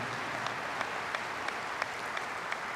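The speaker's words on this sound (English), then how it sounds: "How about a round of applause for these dedicated men and women?" Convention audience applauding youth chaperones at a fraternal lodge gathering, a steady mass of clapping with a few sharper claps standing out, no voices.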